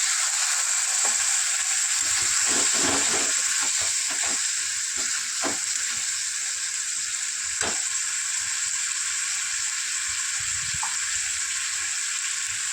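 A spice paste of turmeric, coriander and cumin mixed in water fries in a pan of oil, a loud continuous sizzle broken by scraping stirs with a spoon.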